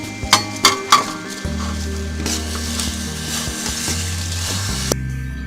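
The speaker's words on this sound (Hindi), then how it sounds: "पानी हमारा बॉयल होना शुरू हो गया है। अब हम इसमें चावल डालेंगे।" A few sharp clinks and a brief rattle, then a steady, close hissing bubble as dry rice tumbles into a pot of boiling water.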